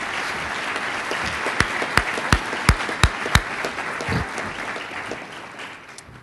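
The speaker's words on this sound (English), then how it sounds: "Let's give Ian a round of applause as he's the current Athlete of the Year." Audience applause for Ian, the current Athlete of the Year, at the Special Olympics Virginia 2013 awards celebration: a run of sharp, distinct claps rises over a room murmur, then thins and fades toward the end.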